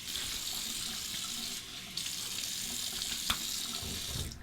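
A razor being rinsed under a running tap, a steady close splash of water flowing into a sink with a brief knock partway through, no talking.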